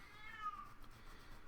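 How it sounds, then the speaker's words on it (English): A pet cat meows once indoors, a short rising-then-falling cry heard faintly over quiet room noise, then silence follows. "I don't know if you can hear my cat meowing"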